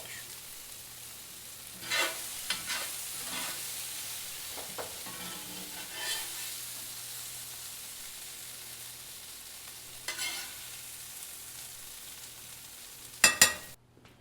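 Okra and squash fry in a cast iron pan, a quiet steady sizzle broken by occasional scrapes and taps of a spatula and a sharp metallic clatter near the end.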